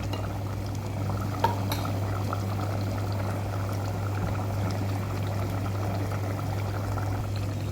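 Raw prawn curry simmers in a pan on the stove as a soft, steady bubbling with a low constant hum underneath. One small clink sounds early on, and no one speaks.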